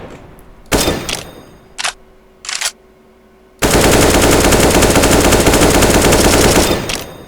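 Gunfire during shooting practice in the video game CS GO: a few short, sharp bursts, then a loud, continuous stream of rapid shots that lasts several seconds.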